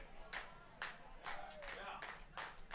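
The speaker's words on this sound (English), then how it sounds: "Crowd getting behind him here" A baseball crowd in Spearfish claps in short scattered bursts for a closing pitcher, the spaced rounds of applause fairly faint and distant.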